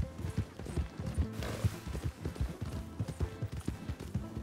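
Donkey hooves clip-clopping steadily at a walking pace in the video game Red Dead Redemption 2, a soft rhythmic patter of hoofbeats close by with low background ambience.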